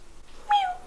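A person imitates a cat with one short, rising-then-falling sad meow, close and fairly loud against a quiet room.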